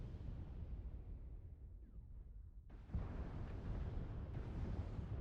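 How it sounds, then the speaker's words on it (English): An airstrike in a mech combat video game hits with a deep rumbling blast, then a sudden louder crack and a long sustained roar of debris and fire. "Oh, another airstrike out in the middle here."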